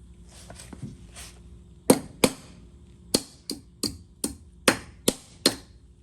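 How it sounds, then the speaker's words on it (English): A hammer strikes a car axle nut during a brake drum and shoe job, sounding as about ten sharp metallic blows in irregular pairs and singles, close and loud over a quiet background. "hammer down some more on that axle nut"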